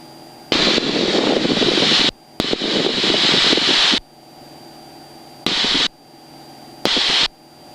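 A small training airplane's engine drones steadily in flight, cutting in and out in loud bursts as power is pulled back to simulate an engine failure, with quieter cabin hum between.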